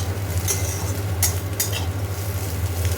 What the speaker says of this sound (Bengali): একটু ঘি দিয়েছি, ভালো করে এটা ভাজবো।